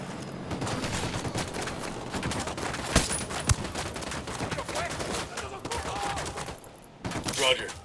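Gunfire from the tactical shooter game Ghost Recon Wildlands, a dense loud fusillade of overlapping shots with a few sharper cracks standing out, sustained throughout with no talk.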